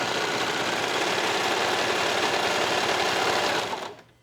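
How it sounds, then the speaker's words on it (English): A serger sewing a side seam on a fabric top runs loud and close with a steady, fast mechanical whir, then winds down and stops at the end. "Just make sure the fabric doesn't stretch while you're serging."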